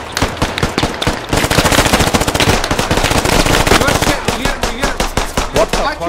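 Rapid machine gun fire from the tactical shooter game Squad, loud and close, with fast repeated bursts running nearly nonstop for several seconds.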